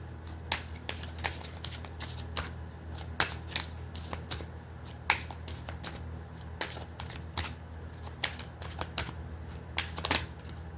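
Tarot cards are shuffled in a quiet room, giving repeated crisp riffling slaps and flicks in an uneven rhythm, close and fairly soft.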